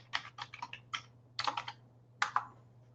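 Quick bursts of keystrokes on a computer keyboard, soft clustered clicks with short pauses between words, close and alone over a faint steady hum.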